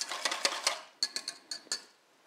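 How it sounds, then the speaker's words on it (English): A whisk beats cauliflower pomelo salad dressing in a bowl, sounding as quick rhythmic metallic clicks in short bursts that stop after two seconds. "And all that's left is some whisking."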